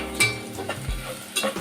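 Coriander being stirred into masala frying in a pan, with a steady sizzle and a few scraping strokes of the spoon, close and fairly loud.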